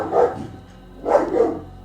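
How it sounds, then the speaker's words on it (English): A dog barks twice, loud and close, with a pause between the short bursts and no talking over them. "I'm going to kill this fucking dog."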